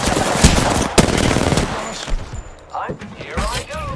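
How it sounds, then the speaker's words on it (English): Apex Legends gameplay gunfire as an enemy squad fires: dense bursts of automatic shots with sharp single cracks, continuous and loud through the first seconds, then fading under game effects and voices. "The enemies are shooting at me."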